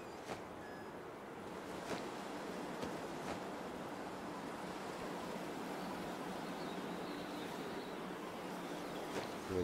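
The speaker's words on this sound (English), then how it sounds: "we've got back-to-back windstorms here" A howling windstorm sweeps across the wilderness in The Long Dark, a steady rushing roar of wind that stays moderately loud throughout with faint gusting swells and a few soft knocks.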